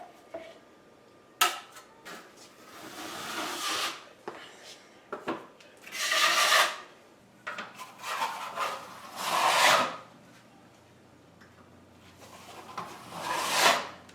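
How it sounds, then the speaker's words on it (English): Trowel scraping and rubbing joint compound across a kitchen's back wall in repeated sweeping strokes, close and moderately loud, with brief taps and knocks between passes and no talking. "I'm just going to skim out this back wall here one more time"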